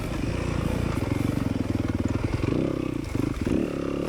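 A Yamaha YZ250FX dirt bike racing in a hare scramble: a close, loud four-stroke engine hammering with rapid rhythmic pulses, shifting and revving as it rides, with clattering from rough terrain.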